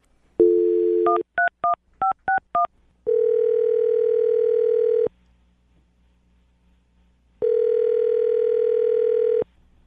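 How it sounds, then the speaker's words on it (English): Telephone dialing tones beep in a quick sequence, followed by two long, steady ringback tones with a pause between them. "Any last thoughts before I dial her phone?"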